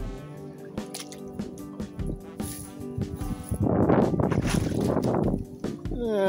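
Boots wade through shallow water over a flooded pier, making wet sloshing and squishing steps, close and loudest toward the end, with speech in between.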